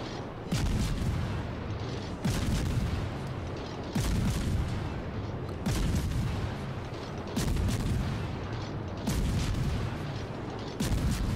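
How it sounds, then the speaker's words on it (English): Main guns of the Friesland destroyer in World of Warships fire in a steady series of booming salvos about every two seconds, loud and close, over a constant low rumble with no talking. "I do like the way these guns sound."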